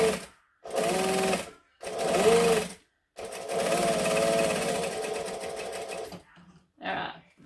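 A sewing machine stitches through a vinyl bag in several bursts of steady mechanical whirring, each run stopping and restarting, with a short quieter pause and a brief final burst near the end.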